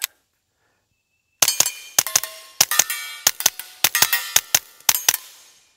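A Kel-Tec P17 .22LR pistol fires outdoors with subsonic ammunition, a string of about fifteen sharp cracks in a quick, slightly uneven rhythm after a short silence, each shot ringing out loud and close.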